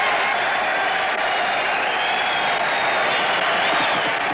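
A boxing crowd roars as Willard goes down against Dempsey in their heavyweight championship fight, a dense, sustained wall of cheering and shouting that stays loud and steady throughout.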